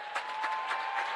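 Crowd at a high school boys basketball game applauding and cheering as the game ends, a steady wash of clapping with rhythmic surges, moderately distant and without talk.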